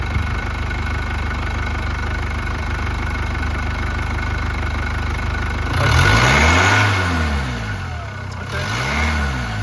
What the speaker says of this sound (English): Just going to bring the revs up, just see if the back pressure increases at all.